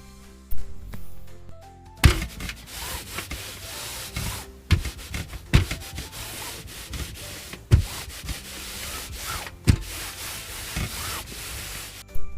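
An iron scraping and gliding over fabric, with sharp thuds every second or two as it is set down and lifted.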